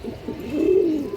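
A big, high-quality male Rampuri pigeon coos nearby, a low throaty rolling call that swells and rises in the second half, heard alone without talk.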